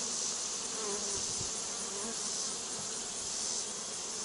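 Honeybees buzz around an open beehive during queen grafting, a dense steady swarm drone filling the air close by with no voices.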